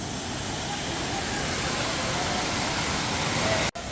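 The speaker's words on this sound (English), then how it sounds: "Imagine standing at the base of a thunderous fall, the water crashing into the jade pool" Dhangar Waterfall near Badlapur crashes into a jade pool at the base of a thunderous fall, a loud, steady roar of broadband rushing water that continues without a break.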